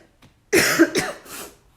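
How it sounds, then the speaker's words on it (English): A single close cough breaking out after a quiet moment, followed by a softer throaty exhale. "I need to cough. Uh-oh, what is that cough?"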